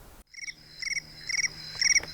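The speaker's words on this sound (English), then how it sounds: "Oh, there's my timer." A phone timer alarm goes off outdoors in a garden among vegetable seedlings. It sounds as bright electronic chirping bursts that repeat in quick clusters, growing slightly louder with each round.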